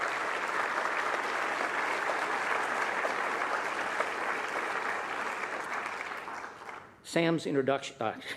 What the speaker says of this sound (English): Yes, do applaud for them.